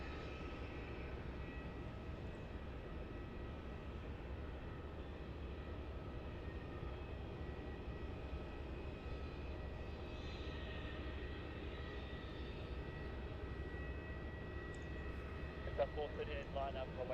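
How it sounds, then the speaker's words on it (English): Jetstar Airbus A320 landing on runway 16 at Melbourne Airport: a steady, broad engine roar fills the whole span at an even level, distant and continuous, with a voice talking over it. "Looks like we've got a Jetstar A320 coming in now on runway 16."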